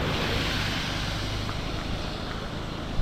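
The Seetha river near Agumbe, swollen with monsoon rain, gives off a steady, loud, broadband rushing roar that holds unbroken throughout, with no voices.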